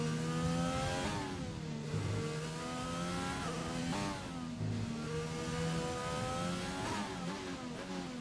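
A race car engine on a sim-racing circuit revs hard and climbs through rapid upshifts, with rising harmonic sweeps dropping at each gear change, loud and continuous with no talk.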